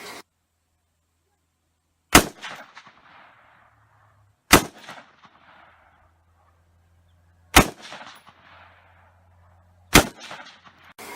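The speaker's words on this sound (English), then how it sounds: "And then I got to shoot a 223, which you can see right here." Four sharp, loud .223 rifle gunshots fired outdoors at spaced intervals, each a hard crack followed by a brief fading echo, with quiet gaps between.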